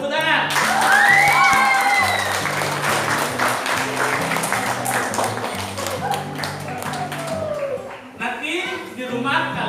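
A classroom full of students clapping together in a steady burst of applause, with chatter and voices mixed in throughout.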